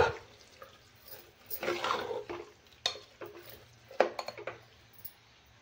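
A spoon scrapes and clinks in a pan as dal and jaggery are stirred and sautéed for Holi puran poli, in irregular bursts of stirring and soft metallic knocks with no talking.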